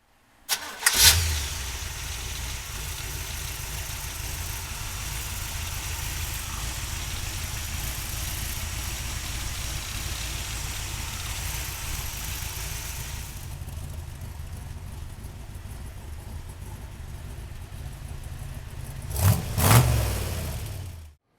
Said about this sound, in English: We're gonna open up the hood and fire up that 327.